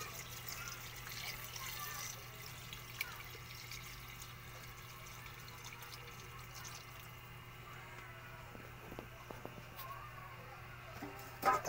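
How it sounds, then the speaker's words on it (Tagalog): Water pours steadily into a pot of chicken soup (tinola) on a kitchen stove, a faint, quiet trickle and splash that runs for several seconds against a low background hum. "Lagyan natin siya ng tubig"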